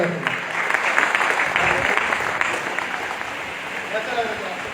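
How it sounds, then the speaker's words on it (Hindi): Crowd clapping at a gathering, a burst of dense applause that tapers slightly toward the end, with some voices audible underneath. "फिर से जोड़ो ताली"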